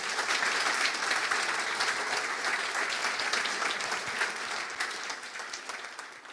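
A conference audience applauds a speaker, dense steady clapping from a large crowd that holds for several seconds and gradually thins and fades toward the end.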